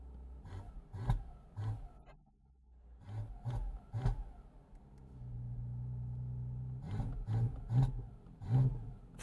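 A Porsche engine revs in repeated bursts with a loud, rough exhaust, separated by a lower steady drone at idle. The sound stays fairly close, with some wind noise underneath.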